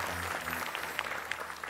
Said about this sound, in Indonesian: Tepuk tangan buat Ferdian.